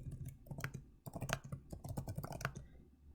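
Someone typing text on a computer keyboard: a steady patter of quick, close key clicks with a brief pause about a third of the way in, no voice heard.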